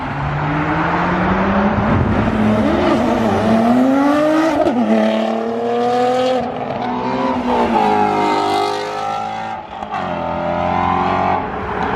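A Nissan GT-R and muscle cars such as a Hellcat arrive and leave at a Halloween car meet, their engines loud and close with rising revs and throttle pulls sustained through the whole stretch, with no talk.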